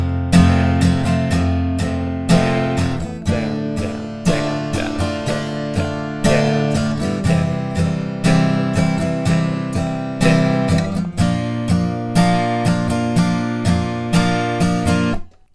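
Acoustic guitar strumming the bridge chords of a song, a steady repeated strumming pattern played twice per chord, close and loud with no talking.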